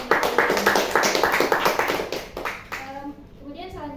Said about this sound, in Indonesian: berikan tepuk tangan dulu kepada teman-teman